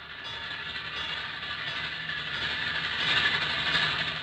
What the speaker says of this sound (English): Sounds like a railroad crossing, Bill.